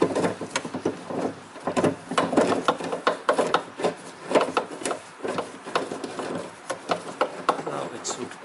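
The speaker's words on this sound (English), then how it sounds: "I install my tool in this bolt area, and then I rotate that" A hand tool turns the bolt on the outer door handle of a 1991–2002 Toyota Camry, giving continuous close scraping and ratcheting clicks that sound rough and rubbing throughout.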